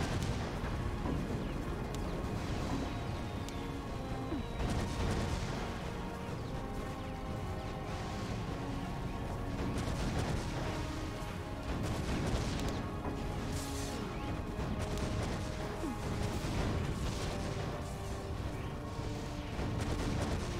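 Gun turrets fire steadily in the tower-defense video game Defense Grid: The Awakening, a dense, continuous barrage of booming shots and crashes layered over game music, with no pauses throughout.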